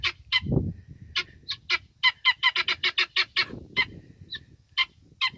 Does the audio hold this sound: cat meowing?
no